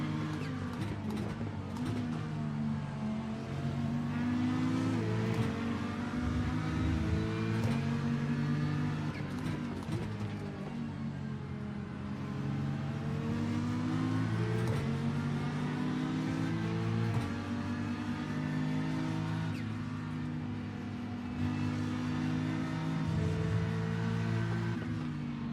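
Chevrolet GT3 race car engine in the iRacing sim at Watkins Glen, a loud steady drone with harmonic bands that rise and fall through gear changes and throttle, continuous and alone throughout.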